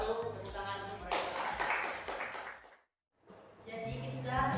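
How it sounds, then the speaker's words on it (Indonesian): Chemistry class applauds student group 1, a short burst of many hands clapping, a sudden brief silence, then more clapping, with a teacher speaking. "Tepuk tangan untuk mereka."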